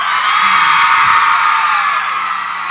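A big concert crowd in New York screams and cheers in one loud, continuous roar that holds steady throughout, with no single voice standing out.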